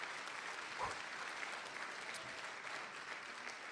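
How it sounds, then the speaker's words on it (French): Audience applause for student performers at an awards gala for school board pupils; steady, moderately distant clapping from a large crowd throughout, with no voices over it. "et on les applaudit"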